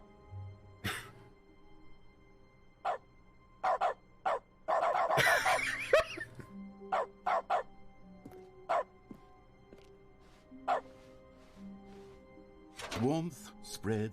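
Dog barks and yips from dog mode in The Stanley Parable: Ultra Deluxe, short sharp bursts scattered across the stretch over a faint game background, one longer whimpering run in the middle.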